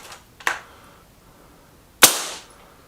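Two sharp shots from a Remington air rifle during a target shooting velocity test, the first lighter and the second a louder close crack with a brief decaying tail, separated by quiet.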